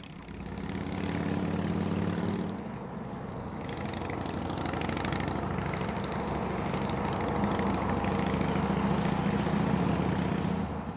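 A steady, rumbling motorcycle engine drones continuously, loud and close, with a slight dip in pitch early on before settling into a constant growl.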